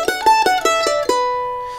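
Mandolin plays the second section of the fiddle tune Lee's Reel, a quick run of about six bright picked notes in steady rhythm, close and clear, ending on a ringing sustained note.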